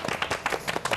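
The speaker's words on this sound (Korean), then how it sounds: "박수!" Quick clapping for the winner of a council trivia quiz on a local assembly talk program, a brief run of sharp, evenly spaced claps close by.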